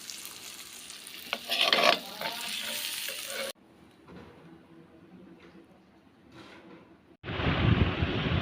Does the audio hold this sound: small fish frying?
yes